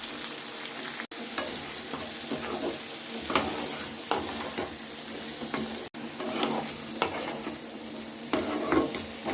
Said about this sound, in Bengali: এবার এটাকে ভালো করে নেড়ে চেড়ে দিলাম।